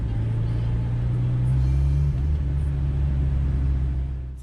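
Engine running on WD-40 held at low RPM, a steady loud low rumble with a slight shift in tone midway before easing off at the end.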